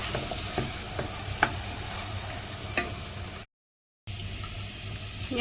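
Ginger garlic paste sautéing in a pan makes a continuous close sizzle with occasional sharp ticks of stirring, a brief silent gap, then the frying picks up again.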